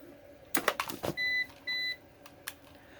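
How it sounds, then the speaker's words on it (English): After some clicking and handling noise, an APC BN450M UPS battery backup gives two short, steady beeps in a row, close by. "So it's beeping down here for some reason."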